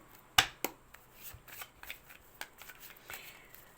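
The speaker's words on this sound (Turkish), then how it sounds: "şimdi bir kart çekmek istiyorum" A tarot card drawn from a deck gives a sharp snap followed by soft shuffling and papery slides and flicks, close and quiet, with no talking.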